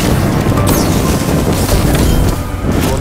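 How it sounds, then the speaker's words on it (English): A flamethrower firing in Call of Duty: Black Ops Cold War, a dense continuous roaring whoosh that stays loud and close throughout with a few crackling flares. "Firing up flamethrower!"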